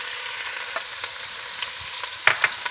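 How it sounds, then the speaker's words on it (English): Garlic sizzles steadily in a hot pan for a Sunday sugo sauce, with a constant frying hiss and a few sharper pops and crackles near the end, close and loud with no voices. "So I add the garlic, I get it nice and toasted."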